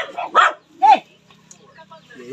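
A dog gives two short, close barks in quick succession, followed by quieter yips and whimpers, amid a lively outdoor household setting.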